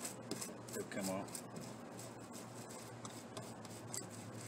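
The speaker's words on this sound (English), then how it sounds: "If you want to take some of that black membrane off, you can scrub it with a brush." A brush scrubs the black membrane off a mullet fish in short, rasping strokes, close and fairly quiet, with a few clinks mixed in.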